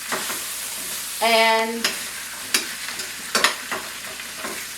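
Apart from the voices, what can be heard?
stirring onions frying in butter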